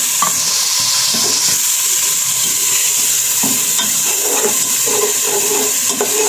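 A loud, steady hiss and sizzle as a little water hits fried ginger-garlic masala for fish curry in a kadhai, with occasional stirring scrapes throughout and no talk.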